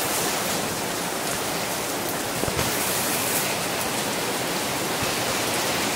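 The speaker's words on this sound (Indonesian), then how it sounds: "Alhamdulillah pada malam Jumat ini kita di kota Mekah ini diberi turun hujan ya" Heavy rain pours down in Mecca on a Friday night, a loud, dense, steady hiss of falling water that continues without pause, with a few sharper drips standing out.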